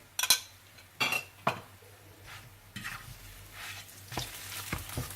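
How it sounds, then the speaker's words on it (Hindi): An egg paratha fries in butter or oil on a pan with a soft, steady sizzle, and a few brief clinks and scrapes of a utensil against the pan stand out near the start. "पराठे की एक साइड पकने के बाद आप दूसरी तरफ फिर से मक्खन या तेल लगाएं और इसे फिर से पलट दें।"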